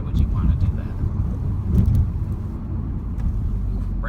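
A 2017 Ford Focus RS cruising in fourth gear, a steady low engine and road drone heard from inside the cabin, with some wind noise and occasional faint clicks.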